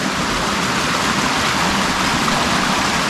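A waterfall seen from a caravan holiday spot in Snowdonia, Wales, giving a steady broad rushing hiss of falling water, constant and fairly loud with no talk over it.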